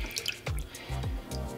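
Liquid houseplant fertilizer glugs and splashes as it is poured from an upside-down bottle into a watering container, a short run of wet, pulsing pours close up, with no talking.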